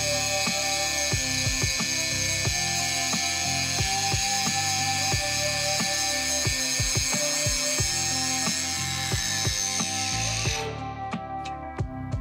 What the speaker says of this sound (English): Now we're going to grind stainless.